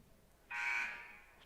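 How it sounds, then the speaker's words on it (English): A basketball game buzzer in a high school girls' gym sounds once, a harsh, loud electronic blare that starts abruptly and fades over about a second, with no voices. "There's a second buzzer."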